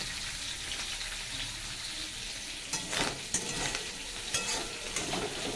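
Pointed gourd (potol) frying in oil, a continuous hissing sizzle that grows busier toward the end with crackles and spatula stirs, close and without voices.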